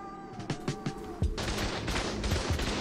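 Rapid turret gunfire during a base raid in the video game ARK, a quick string of popping shots giving way to a dense, continuous burst of automatic fire.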